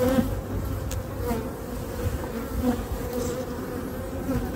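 Honeybees drone steadily at a breeding and selection apiary during a spring hive inspection, a dense, continuous buzz of many insects close by with no talking.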